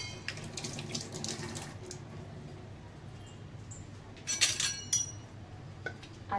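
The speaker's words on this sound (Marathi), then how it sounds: "त्याच्यात परत आपण अजून पाणी ऍड करतो आहे" Water poured from a vessel into a pot of porridge (lapshi) mixture, a splashing trickle at the start then quieter, with clinks of glass or metal utensils near the end, close by and without talk.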